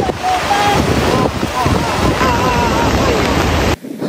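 Typhoon-driven surf, with waves near five metres, crashing against the tetrapod breakwater at Yong'an, Kaohsiung, where a loose fishing boat is pounded against the blocks; a continuous roaring wash with heavy wind buffeting the microphone, cutting off abruptly near the end.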